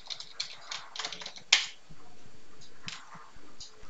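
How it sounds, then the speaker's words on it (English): A password is typed on a computer keyboard in a quiet room, with a short run of soft, close key taps and one sharper click. "and I will type my password"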